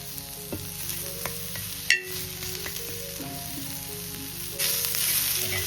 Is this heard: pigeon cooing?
no